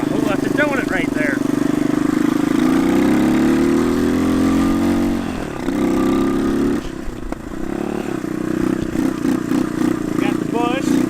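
A revived three-wheeler ATV engine drones steadily while being ridden outdoors, rising and falling with throttle and clattering over bumps, loud and close, with voices occasionally heard under it.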